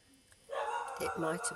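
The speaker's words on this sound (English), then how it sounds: "As I say, you will have to excuse my little dog." A small dog barks a few times indoors during a home card-making session, the yaps mixed in with someone talking over them.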